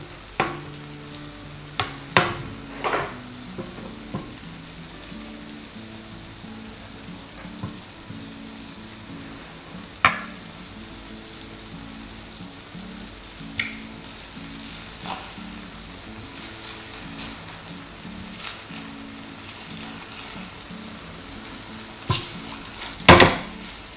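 Bread toasts in melted butter in a pan for a milk toast, giving a steady soft sizzle with occasional sharp clinks and scrapes of a utensil against the pan, and no talking.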